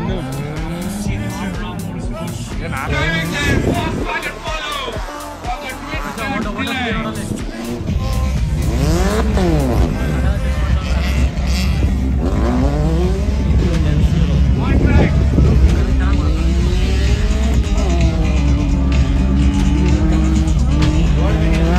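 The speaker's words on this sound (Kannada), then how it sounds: "ಏನು ಪೋಲೋ ಮತ್ತು ಹೋಂಡಾ ಸಿಟಿ ರೇಸ್ ನಡೀತಿತ್ತಲ್ಲ" A VW Polo and a Honda City race on gravel at the Mysore Gravel Fest. Engines rev loud and close, tires squeal and skid, a constant rising and falling engine roar continues throughout, and voices can be heard under the racing noise.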